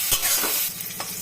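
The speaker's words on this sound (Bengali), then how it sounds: "উচ্ছেটা ভাজা হয়ে গেছে" Bitter gourd slices frying in hot oil give a steady close sizzle, with a few scraping stirs across the pan over just over a second.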